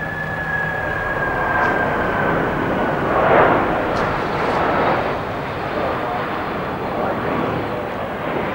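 A Russian aircraft at the 1992 Farnborough air show roars in a broad, steady engine rush that swells and fades slightly, heard at moderate distance with a faint tonal whine early on.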